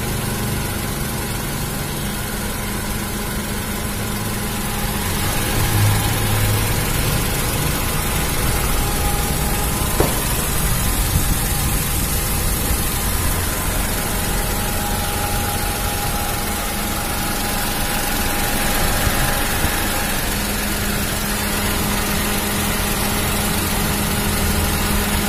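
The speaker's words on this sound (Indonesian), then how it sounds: "Kalau mesin 3 silinder itu memang dia bergetar." A three-cylinder car engine idles with a steady low hum and a constant buzzing vibration that runs unbroken for the whole stretch, close by and without any talk over it.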